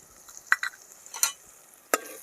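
A spoon stirs chutney and Kashmiri red chili powder in a pan, making a few quick scraping clinks over a faint sizzle, about four distinct strokes.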